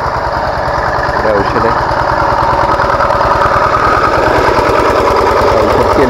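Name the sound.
engine of a pesticide sprayer running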